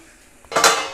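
Hot water poured from a pot into a pan of village-style country chicken, a short burst of splashing and clinking metal after a brief quiet lead-in, close and fairly loud.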